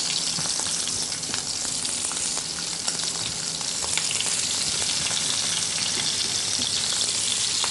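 Fish frying in hot oil in a kitchen, a dense, loud crackling sizzle filling the whole stretch with occasional sharper pops, close up and continuous, no talk.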